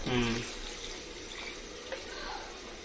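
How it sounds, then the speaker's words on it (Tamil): Water is poured into a simmering pepper chicken gravy, making a brief splashing, rushing wash. A voice is heard for a moment at the start. "இப்போ தேவையான தண்ணி ஊற்றிடலாம்"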